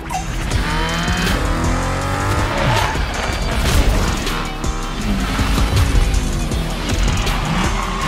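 Tires squeal loudly and without a break as cars pull gymkhana tricks in The Crew Motorfest racing game, with engines revving and screeching close up for the whole stretch.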